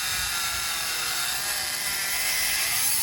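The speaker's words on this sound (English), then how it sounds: "Don't push hard on your Dremel. Just let it cut and do the work." A Dremel rotary tool cutting through a travel trailer awning, a steady high-pitched whine that runs continuously and loud, close by, without pause.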